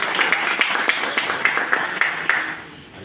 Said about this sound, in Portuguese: queria uma salva de palmas para o meu professor